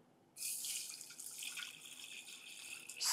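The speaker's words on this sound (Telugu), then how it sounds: "ఇందులో మనం వాటర్ వేసుకుందాం." Water poured into a pan for a homemade remedy drink with pepper, a close, steady splashing stream that starts abruptly after a brief silence and runs continuously to the end, no voices.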